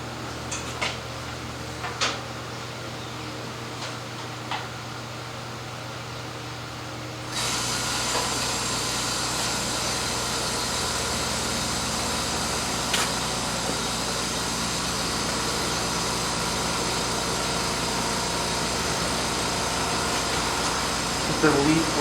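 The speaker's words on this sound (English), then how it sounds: "It's a leaf blower." A leaf blower engine starts up partway through and keeps running steadily with a loud broadband roar, close by, with faint voices in the background.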